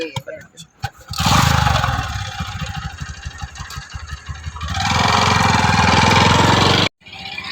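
A motorcycle engine cranks and catches at the Siddhpur fair, runs with a throbbing putter, revs up louder, then cuts off abruptly near the end.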